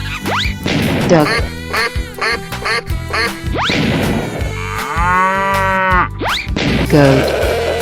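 Cartoonish duck quacks in a 3D animal slide video game, several bright bursts amid farm-animal calls such as mooing, with lively game music and sound effects throughout.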